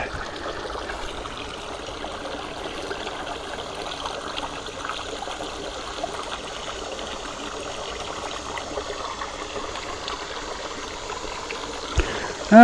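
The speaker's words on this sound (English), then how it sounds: "And it looks like this little creek is probably about" A small creek about a foot and a half deep flows beneath a bridge in Blakeley State Park, a steady close wash of running, trickling water that holds evenly throughout with no talk.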